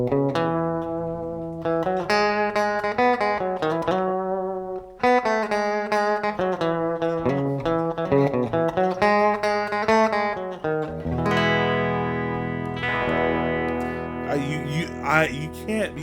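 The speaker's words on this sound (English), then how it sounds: "the bridge pickup, it's not too bright, but it gets through every mix that I put it in" Custom electric guitar played through its bridge pickup with distortion, loud sustained chords and riffs in bursts, ending in a denser strummed passage.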